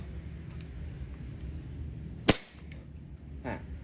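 A single sharp, loud snap of a WE M1911 gas airsoft pistol fired during a chronograph velocity test, a crisp crack over quiet background, followed by faint handling clicks and rustles.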